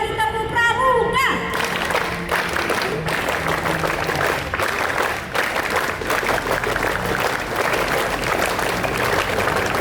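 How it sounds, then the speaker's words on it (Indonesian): After a short spoken call, a big assembled crowd at a Pramuka scout day ceremony bursts into steady, dense clapping that carries on evenly, heard from a distance with faint rhythmic accents. "3 kali tepuk pramuka"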